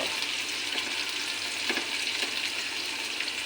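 Cauliflower pieces fry in oil in a pan alongside other vegetables for a savory semolina dish, giving a steady close sizzle with occasional crackling bursts and no talk.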